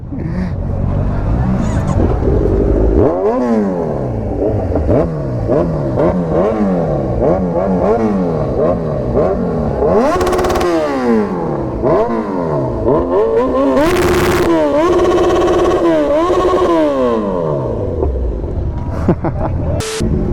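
A Suzuki Hayabusa motorcycle engine revs hard and repeatedly, with loud rising and falling sweeps close by, several sharp throttle blips and a long high rev near the middle.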